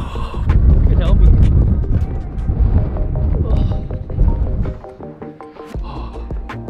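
Strong, gusty wind buffets the microphone at a hilltop lookout above Hobart, Tasmania, a loud low rumble rising and falling under a woman's speech throughout.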